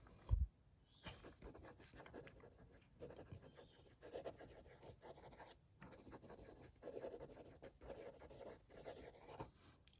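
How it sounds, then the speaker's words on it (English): Benu Haute Allure fountain pen nib moving quickly across paper, a close, quiet scratchy rasping of fast writing strokes broken by brief pauses. "Fast writing,"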